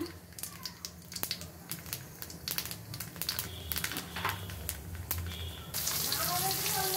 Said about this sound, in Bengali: মাছ ভাজা তেলে কালিজিরা ফোড়ন দিলাম